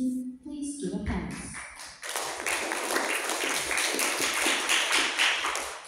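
Applause from the audience at a debate round breaks out after a quieter opening with a few taps, then swells into dense, continuous clapping that holds to the end.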